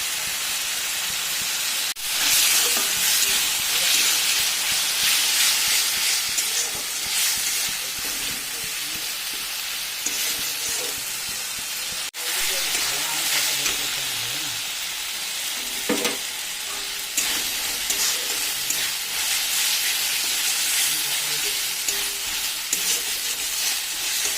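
Masala of salt, turmeric and chili powder sautéing for bhetki fish, a long steady hiss and sizzle in the pan with occasional stirring clatter and spatula scrapes, close and unbroken, no speech.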